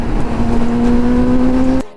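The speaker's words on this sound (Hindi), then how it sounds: "तो भाई रोक लेते हैं मोटरसाइकिलें यहीं" Motorcycle engines idling at the Loni toll plaza on the Delhi Dehradun Expressway, a loud, close, steady drone that cuts off abruptly near the end.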